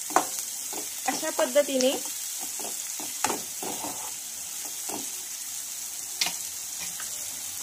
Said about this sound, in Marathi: तर इथे तुम्ही बघू शकता मसाला छान आपला फ्राय होत आहे